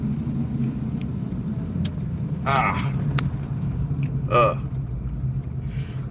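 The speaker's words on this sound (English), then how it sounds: "I hope you guys have enjoyed this trip in my rich man's car, my Mercedes-Benz Presidential Edition" A Mercedes-Benz Presidential Edition car drives along with a steady low road rumble inside the cabin, someone speaking over it with a couple of brief louder sounds.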